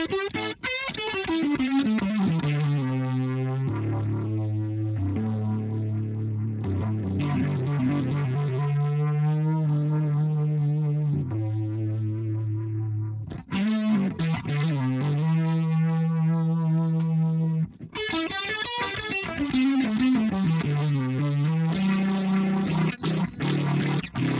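An electric guitar plays sustained chords and notes through a washy reverb, the tails ringing out and overlapping between phrases.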